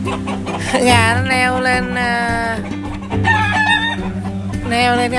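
Roosters crow loudly and close by in a backyard garden where many chickens are kept, with two long rising-falling calls over background clucking.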